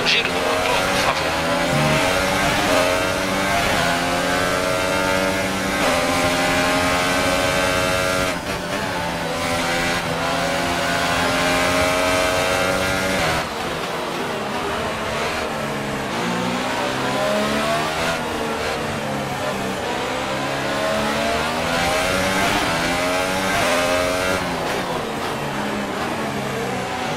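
An F1 race car engine in the video game F1 2018 at Interlagos, Brazil, screams at high revs from an onboard view, pitch rising and dropping through gear changes without pause, with a voice speaking over it at times.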